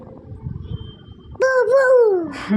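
After some quiet murmuring, a child lets out one long, loud, wavering howl-like cry, a playful imitation of a dog.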